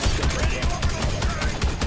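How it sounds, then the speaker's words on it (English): Auto cannon firing in Evolve, a loud, rapid stream of shots packed into a dense, continuous burst. "See that auto cannon? It's got a little bit of a spread when you're firing."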